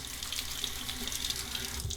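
Water runs from a bathroom tap in a steady, close splashing stream for a couple of seconds, with no voices over it.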